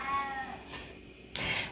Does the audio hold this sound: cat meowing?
yes